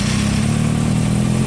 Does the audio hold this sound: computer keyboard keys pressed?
no